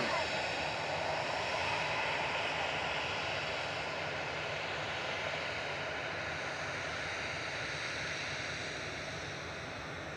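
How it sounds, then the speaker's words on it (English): Virgin Atlantic Airbus A350-1000 crossing the runway threshold to land at Manchester Airport, its loud, sustained engine roar and rushing air filling the clip evenly before easing slightly toward the end. "we've got the A350-1000 of Virgin Atlantic coming over the threshold now with flight 74"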